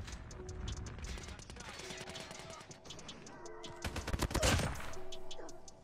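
Quiet gunfire from the mobile shooter game Call of Duty Mobile, with scattered rapid shots building to a denser burst of fire near the end.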